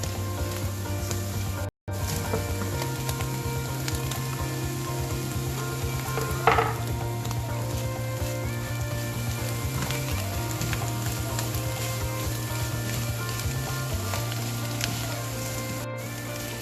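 Carrot sizzling in a hot pan for beef noodle soup, a loud continuous frying hiss with occasional scrapes of stirring, no talking.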